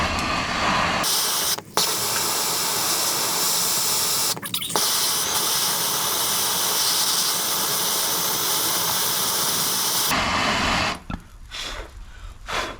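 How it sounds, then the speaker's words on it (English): A blowtorch roars in a steady, loud hiss while heating a metal pin during a BMW Mini lower arm and subframe rebuild, cutting off near the end into quieter workshop clatter. "get your blowtorch and warm that pin up"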